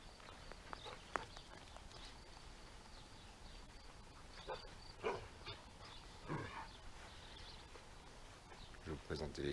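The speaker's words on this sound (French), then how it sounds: "Je vais vous présenter les chiens aussi." Dogs on a farm bark now and then at a distance, sharp yips scattered among footsteps and faint outdoor noise, with people talking quietly nearby.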